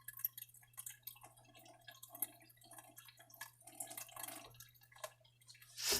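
Water drips and trickles faintly while sprouting lentil and chickpea seeds are watered, with soft irregular droplets and a low steady hum underneath, ending in a brighter splash.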